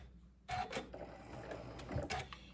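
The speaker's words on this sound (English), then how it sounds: "What I like to do is sew till I'm about a 1/4 of an inch away from that edge." Domestic sewing machine stitching a charm-pack pillow seam up to a quarter inch from the edge, a steady mechanical whirr with brief louder bursts, close and alone.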